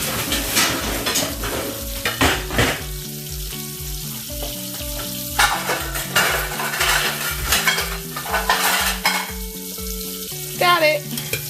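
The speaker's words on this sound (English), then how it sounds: "Just find a spoon to stir that up with." Pasta sauce stirred with a spoon in a pan over a sizzling fry, with repeated metallic scrapes and clinks against the pan and an underlying hum, close and busy throughout.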